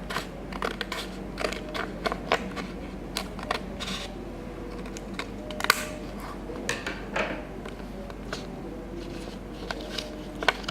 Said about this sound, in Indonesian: Semua sudut kalian gunting kalau bisa.